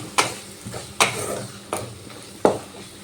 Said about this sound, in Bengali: নুনটা দিয়ে আবারও ভালোভাবে কষিয়ে নেব